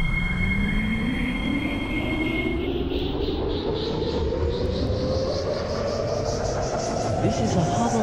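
A Harbour Line train pulls away from a platform with screen doors, with a rising electric motor whine and rhythmic wheel clatter, loud and close, over a steady rumble.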